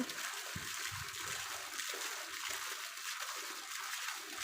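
A steady stream of running water hisses quietly while clothes are washed, with occasional soft splashes and sloshing underneath.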